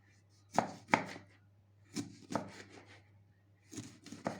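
Several sharp knife chops on a cutting board come in loose clusters, close and crisp, with short pauses between strokes.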